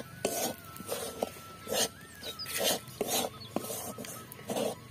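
A spoon stirs crushed toast-biscuit crumbs into a Moglai paratha filling in a pan, giving about eight even, rhythmic scraping strokes, close and moderately loud, with no talking.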